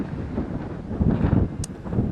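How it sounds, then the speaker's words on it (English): Gusty sea-shore wind roars and buffets the microphone in a low, rumbling wash that swells and eases, with no voices. "it's windy"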